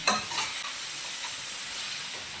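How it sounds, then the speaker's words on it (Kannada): Mandya-style chicken gravy sizzling in a pan after coriander and mint leaves go in, with a steady hissing fry, a spoon scrape at the start and a few soft stirring knocks. "ಇವಾಗ ಇದಕ್ಕೆ ಕೊತ್ತಂಬರಿ ಸೊಪ್ಪು ಪುದೀನ ಸೊಪ್ಪು ಎಲ್ಲ ಹಾಕೊಂಡು ಮತ್ತೆ ಮಿಕ್ಸ್ ಮಾಡ್ಕೊತೀನಿ"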